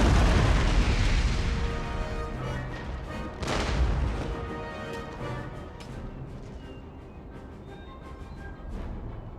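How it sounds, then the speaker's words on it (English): Old cannons fire in an Empire: Total War battle against desert camel gunners, with a deep booming blast at the start and another near the middle, followed by lighter distant pops and rumbling over the battlefield. "We are getting there with the old cannons."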